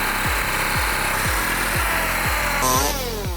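A chainsaw converted into a fixed mini cutter for stump removal runs at a steady loud whine, with a regular series of low rhythmic chugs as it bites through wood, rising in pitch near the end.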